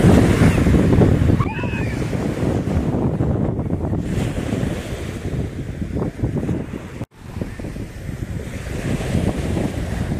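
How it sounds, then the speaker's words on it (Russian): Strong wind buffets the microphone over the steady roar of Sea of Azov waves breaking nearby on the Yeysk Spit beach, with a brief dropout partway through. "Здесь ветер сильный"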